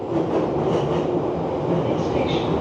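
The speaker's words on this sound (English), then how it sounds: "It was on the train, okay? And how loud is it on the train?" Loud, steady rumble inside a moving train carriage in the U.K., dense low roar with rail clatter and a faint high squeal near the end, no pauses.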